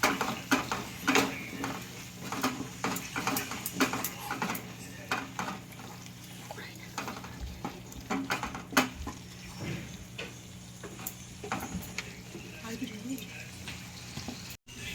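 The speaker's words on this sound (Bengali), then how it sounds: "আর একটু লঙ্কা গুঁড়ো দিয়ে মশলাটা আমি ভালো করে কষিয়ে নেব" Masala with salt and chilli powder sizzles in a pan for a prawn malai curry, with steady quiet frying, scraping stirs and occasional utensil clinks against the pan throughout.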